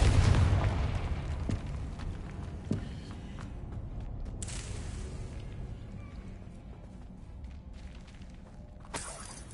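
A Confringo spell explodes in the Hogwarts Mystery video game with a deep boom that fades into a long rumble, followed by a few lighter whooshes and pops.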